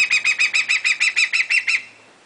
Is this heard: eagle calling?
yes